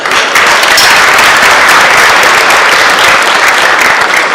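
A large audience at the Cleveland International Hall of Fame event applauds Mr. Ratner with loud, close, unbroken clapping that stays at full strength throughout.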